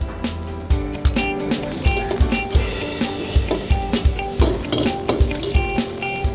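Onion frying in a pan with mustard seeds and garlic for a gongura prawn dish, with loud, rhythmic stirring scrapes and a steady sizzle over tonal background music.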